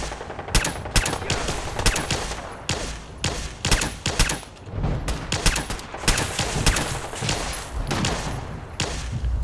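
Enemy gunfire in Fallout 4 survival mode, a continuous barrage of shots hammering in close and loud for the whole stretch, with no voices heard.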